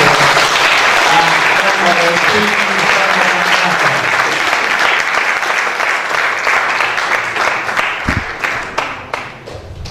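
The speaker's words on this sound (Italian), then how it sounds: "Un applauso dunque anche" Audience applause after a live poetry recital at a town hall, loud and dense from the start, then thinning into scattered claps as it fades toward the end, with a voice faintly heard among it.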